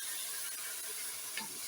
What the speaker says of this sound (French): Je vais maintenant ajouter mes haricots verts écrasés.